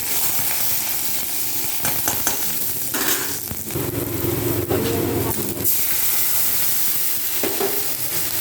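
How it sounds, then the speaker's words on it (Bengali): Garlic, slit green chilies and panch phoron fry in a pan for a duck egg curry, a loud dense sizzle with a louder surge midway and spoon scrapes stirring through it. "সম্পূর্ণটাকে ভালো করে একটু ভেজে ভেজে নিয়ে"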